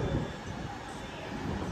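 CrossCountry train wearing an old Virgin badge pulling into a station platform, a steady close rumble of wheels and carriage noise with no break.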